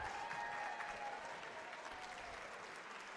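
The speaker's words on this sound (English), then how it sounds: "Let's give her a long round of applause as she comes up into my office" A crowd applauds steadily and loudly for a blonde-haired woman called up onstage as a volunteer, the dense clapping sustained throughout without a break.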